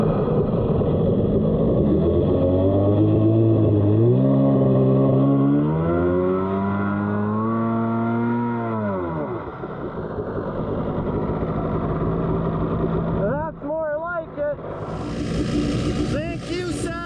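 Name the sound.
jet ski engine revving during carburetor test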